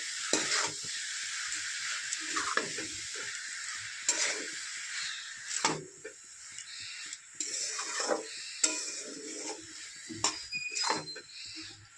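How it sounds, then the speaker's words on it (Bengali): Mushroom masala being stirred in a pan over medium to low heat, with close repeated scraping and stirring strokes over a soft continuous sizzle and no talking. "এভাবে ভালো করে এটাকে মিশিয়ে নেব।"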